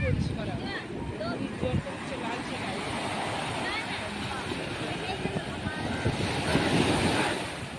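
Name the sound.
big ocean waves at Kovalam beach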